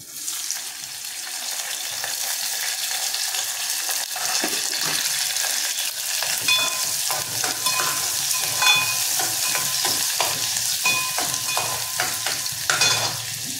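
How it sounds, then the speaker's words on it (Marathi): Onion and curry leaves sizzle loudly in hot oil, a dense crackling hiss with occasional stirring scrapes, continuous and close up. "प्रथम आपल्याला कांदा आणि कढीपत्ता टाकून घ्यायचा आहे फोडणीला"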